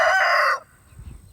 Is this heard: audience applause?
no